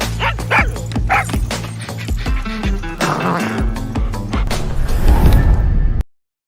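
A dog barks and yips repeatedly in quick, loud bursts, with whimpering sounds in between, before the sound cuts off abruptly.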